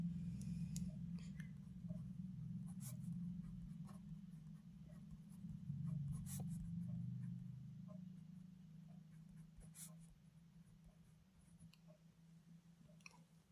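A pen scratching on paper while a math proof is written out, with faint, steady strokes and small taps under a low background hum, no talking.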